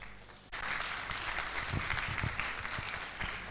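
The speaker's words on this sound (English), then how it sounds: "A round of applause for the VC of the University of Ibadan as he goes to his seat." Audience applause at a medical and dental induction ceremony as the university vice-chancellor returns to his seat, starting abruptly and continuing as a steady, dense clapping from a large crowd.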